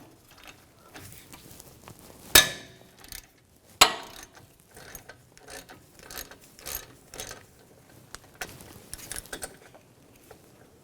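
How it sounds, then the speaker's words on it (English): A 7mm hex socket on a ratchet removing front brake caliper slide pins on a 2006-2010 BMW 550i, quick clicking ratchet strokes with two sharp metallic clanks, close and fairly quiet, no talking. "We're going to use a 7mm hex socket to take the caliper slide pins out."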